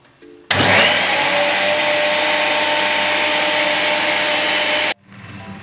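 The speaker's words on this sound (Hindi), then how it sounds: "इनको सही तरह ग्राइंड कर ले ताकि सब्ज़ मिर्चें भी, प्याज भी और अदरक वगैरह, लहसुन वगैरह सारा जो है वो मिक्स हो जाए" An electric grinder grinds green chillies, onion, ginger and garlic for kadhi pakora: a loud, steady, close whirring roar starts abruptly, runs for about four and a half seconds, then cuts off sharply, with quieter room sound before and after.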